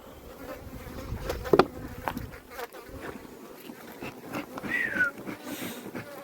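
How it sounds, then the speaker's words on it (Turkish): Agitated honeybees buzz around an open pine honey hive, a steady swarm drone with individual bees whirring close past, one loud near pass early on, heard outdoors with no talk. "Bir de arı e, tam bal bulmadığı için agresifliği sürüyor."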